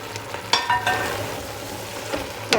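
Chopped tomatoes and fresh green beans cook in a pan with a constant close sizzle, broken by a few sharp stirring clicks and scrapes.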